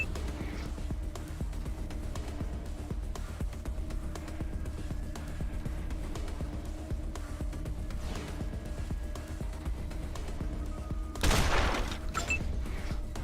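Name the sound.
gunfire in the video game Wasteland 2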